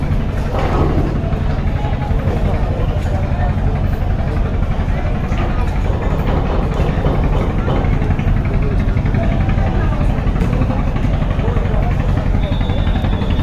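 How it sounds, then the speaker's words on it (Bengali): The Shubhraj 9 passenger launch leaves Barishal for Dhaka with its heavy engine droning loudly and steadily throughout, while someone talks over the constant rumble. "সর্বপ্রথম আজকে ছয় ছয়টি লঞ্চের মধ্যে ফার্স্ট ছেড়ে যাচ্ছে শুভরাজ নয় লঞ্চ দেখতেই পাচ্ছেন"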